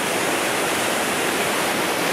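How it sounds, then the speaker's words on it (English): Lumb Hole Falls, swollen after heavy rain, roars in a dense, steady rush of water, loud and close, with no other sounds. "It's been raining loads, so it's a pretty powerful waterfall right now."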